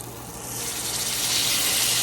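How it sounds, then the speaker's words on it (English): Squash leaves fry in an overheated skillet, a loud steady sizzle up close that swells and brightens over two seconds, with no voices. "You hear it frying"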